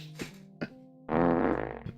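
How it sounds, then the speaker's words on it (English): A cartoonish fart sound effect plays as a Twitch stream alert, a loud buzzing raspy blast lasting nearly a second after a couple of short blips, with a steady electronic tone underneath. "Lays, I'm gonna mute the fucking sound alerts if you keep spamming the fart again"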